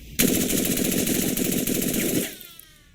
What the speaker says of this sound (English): There are also fully automatic firearms, such as the Thompson and the MP40